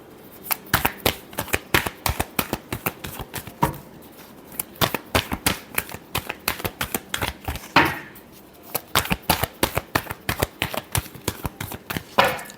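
Tarot cards being shuffled by hand in quick, crisp riffling bursts, repeated many times with brief pauses, close and clear with no talking.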